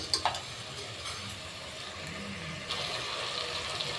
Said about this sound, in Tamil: இப்போ நான் உருளைக்கிழங்கு போட்டு நல்லா கிண்டிட்டு